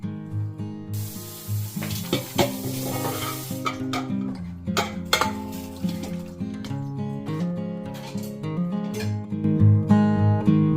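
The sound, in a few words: rajma cooking in a small kadhai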